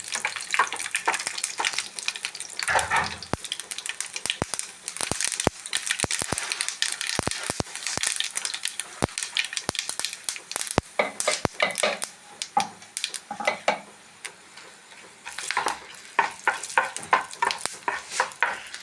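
Crackling sizzle of green chillies and mustard seeds frying in hot oil, with sharp pops and spatters scattered irregularly over a steady hiss, close by.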